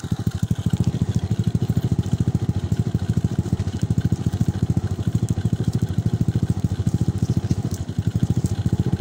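A homemade motorbike engine idles close by in a steady, fast putter with even rhythmic pulses that continue throughout, with no talk.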